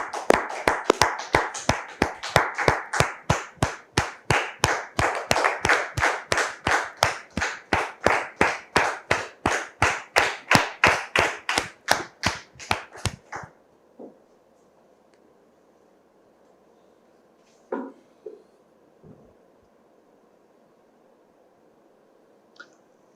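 A studio audience on a French-language talk show claps in steady unison rhythm to welcome a guest, loud and even for about thirteen seconds before stopping abruptly, leaving a quiet room with a few faint knocks.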